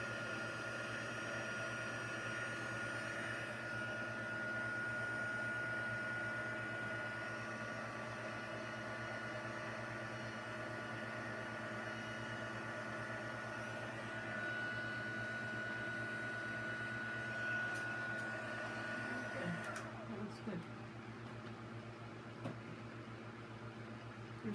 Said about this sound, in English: I'm going to use our heat gun. And we'll just melt the powder here.